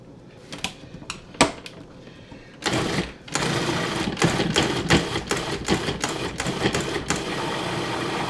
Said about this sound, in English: now we're going to mix that in until the eggs and the vanilla are beaten and have mixed with the butter and sugar mixture